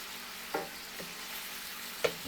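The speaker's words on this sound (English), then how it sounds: "So now as I'm cooking these shallots" Shallots sautéing in a pan with a steady low sizzle, broken by a few sharp stirring scrapes and clacks of a utensil, close and fairly quiet, with no talking.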